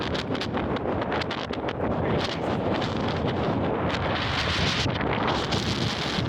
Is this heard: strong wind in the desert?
yes